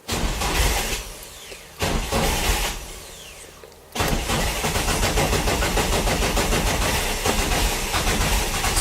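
A Nissan S14 engine cranks and catches after a push-button start, settling into a steady loud idle after a brief initial burst and a short dip.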